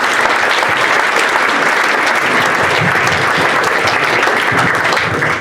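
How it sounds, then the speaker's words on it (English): Loud, sustained applause from an audience at a club owners' meet-the-fans evening, a thick continuous wash of clapping with no gaps throughout. "Big round of applause for Russ"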